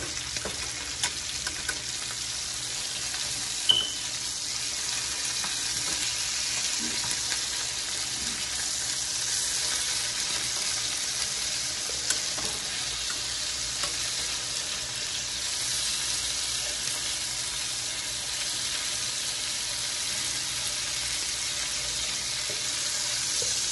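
Oxtail sears in a pan over medium-high heat, giving a steady, close, fairly loud sizzle and hiss that runs unbroken throughout with no talking.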